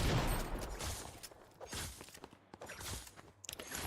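A pump shotgun fires in a video game. Four or five fairly faint, muffled blasts come a second or so apart, each trailing into a short, hollow mechanical rattle.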